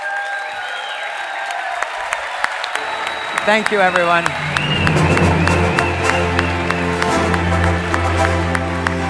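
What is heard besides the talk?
audience applause and cheering for the CEO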